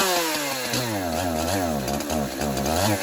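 A chainsaw with a slightly iffy carburetor fires up and runs, its engine revving unevenly with rising and falling pitch, loud and close with no talking.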